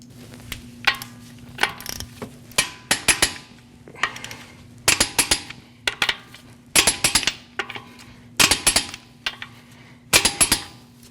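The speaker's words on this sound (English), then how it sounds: "we're going to torque these at 100 foot-pounds in a crisscross manner" Torque wrench tightening the wheel lug nuts of a 2014-2023 Jeep Cherokee to 100 foot-pounds in a crisscross pattern: close, sharp metallic ratcheting and clicking in short separate bursts, one every second or two, with no talking.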